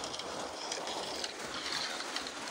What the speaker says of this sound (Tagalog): Lakas ng ulan, guys, kaya maingay tayo ngayon. Maingay sa bubong.